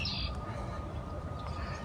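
Bats calling at dusk in Austin, Texas, giving a brief high-pitched chirp near the start over a steady outdoor background hum.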